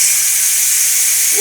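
Steam hisses steadily and loudly from the release valve of a Ninja Foodi pressure cooker, a continuous bright rush that holds nearly unchanged from start to finish.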